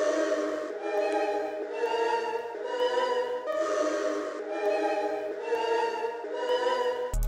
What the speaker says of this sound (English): Sounds like a dark choir